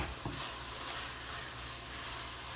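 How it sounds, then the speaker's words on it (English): Kimchi fried cabbage stirred in a hot pan, a continuous close sizzle with a spatula scrape near the start, steady and unbroken, no speech. "Let's stir it."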